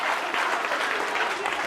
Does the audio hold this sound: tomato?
no